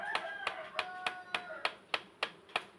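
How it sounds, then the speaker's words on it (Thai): Knuckles rapping on a wooden beehive box: about nine sharp, evenly spaced knocks in a steady rhythm, close and moderately loud, some with a brief hollow ring. "เริ่มกันเลยกำลังเคาะแล้ว"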